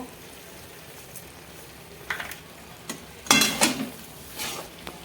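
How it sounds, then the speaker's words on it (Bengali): Potatoes sauté in a pan with homemade spice powder and a little sugar for a prawn curry, a low sizzle under a few close, loud scraping stirs of a spoon against the pan. "আলু 2 মিনিট কষানো হয়ে গেছে, আলু সবজিটা।"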